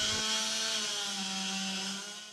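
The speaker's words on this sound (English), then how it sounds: "It's the sound of chainsaws" Chainsaws clear oaks uprooted by Hurricane Ida at a historic plantation site, The Whitney. A steady, buzzing engine drone runs close and continuously, then eases off slightly at the end.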